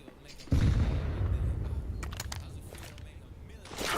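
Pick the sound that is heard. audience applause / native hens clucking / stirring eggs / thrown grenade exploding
thrown grenade exploding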